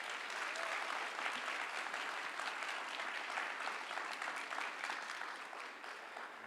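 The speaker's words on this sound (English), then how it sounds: "Let's give her another round of applause" A conference audience at a TEDx event claps in sustained, even applause for several seconds, a dense wash of hands that tapers slightly near the end.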